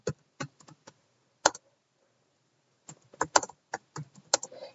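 Bursts of typing on a computer keyboard as a comment is entered, irregular clusters of close, crisp key clicks separated by a quiet pause.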